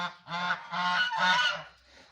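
Loud goose honking on a farm, three or four harsh overlapping calls in quick succession, close by, then fading off, with no talking.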